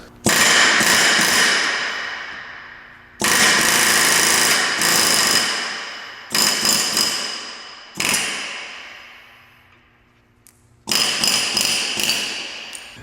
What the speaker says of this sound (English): I'm just going to go straight for my air hammer. With this chisel attachment